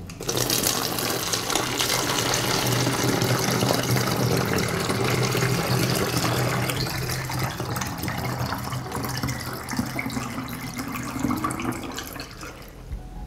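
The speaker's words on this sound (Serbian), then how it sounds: "Sipat ću litar vode." A litre of water is poured into a bottle holding dry yeast and fertiliser, a continuous loud gushing fill that runs steadily for several seconds before tapering off at the end.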